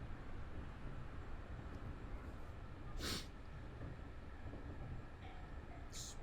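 Train in the game Train Drive ATS 3 labouring up a steep grade, a low, steady rumbling drone of the engine and wheels with two brief hissing bursts.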